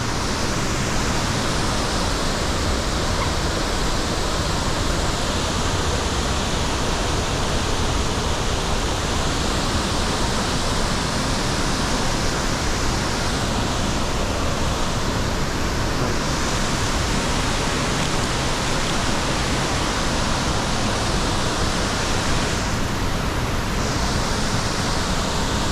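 Cumberland Falls waterfall roars in a steady, dense wash of rushing water that stays loud and unbroken throughout, with no voices.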